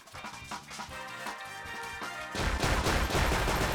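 Cannon fire in the Cannon Mania game, a rapid run of dense booming blasts and crashes that grows louder and more continuous toward the end, with no voices over it.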